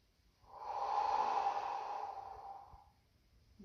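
Slow yoga breath, a single soft, long exhale-like rush of air rising and fading over about three seconds, close and quiet, with no talking.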